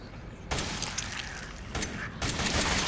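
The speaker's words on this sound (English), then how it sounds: "Whoa, it exploded!" An explosion in Resident Evil 7, a sudden loud blast followed by crackling debris and a second burst, with rumbling noise filling the rest.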